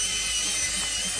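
The motor of a homemade wood lathe runs under load as a steady, close, loud whirring hum whose pitch holds constant throughout, with no voices.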